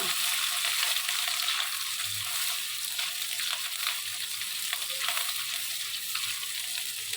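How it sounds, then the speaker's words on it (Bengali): Fish roe frying in hot oil while being stirred, a steady bright sizzle with occasional soft scraping of the stirring, constant in level throughout with no talking. "সেজন্য মাছের ডিমটা আমি প্রথমে তেলের ভিতরে দিয়ে একটু ভালোভাবে নাড়াচাড়া করে নেব।"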